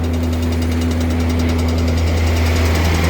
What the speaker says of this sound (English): I'm gonna start the auger now.